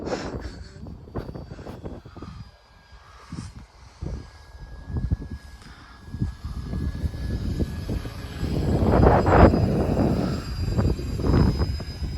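A small homemade RC model airplane engine whines at a steady high pitch, growing louder toward the end amid wind and outdoor rumble.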